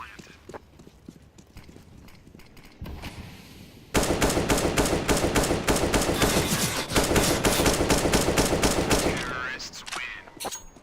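Counter-Strike: Global Offensive gunfire rattles out in rapid, dense bursts of automatic shots during a competitive match, loud and sustained after a quieter start, with a commentator faintly audible.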